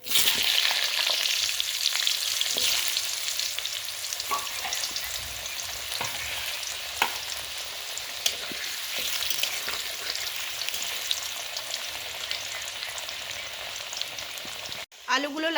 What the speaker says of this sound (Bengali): এবার ওই তেলে আমি আলুগুলো ভেজে নেব।